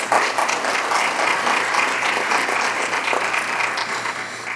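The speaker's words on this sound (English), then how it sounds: "So maybe a little round of applause to welcome our panelists." An audience at a 2021 agricultural leaders debate in Nova Scotia applauds to welcome the panelists, a dense, steady wash of many hands clapping that stays loud throughout before easing slightly at the end.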